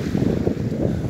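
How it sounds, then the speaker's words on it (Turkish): Light wind blows by the sea on the coast at Ayvalık Altınova, a steady low rush of air buffeting the microphone, with no voices. "Çok hafif bir rüzgar var."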